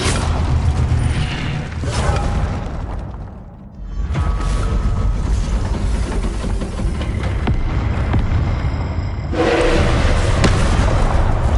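An Incendio fire spell is cast in Hogwarts Legacy, producing loud crackling, booming bursts of flame with a dip in the middle and a fresh surge near the end.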